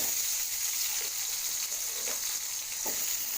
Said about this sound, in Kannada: ಆಲೂಗಡ್ಡೆ ಹಾಕಿ ಸ್ವಲ್ಪ ಫ್ರೈ ಮಾಡಿ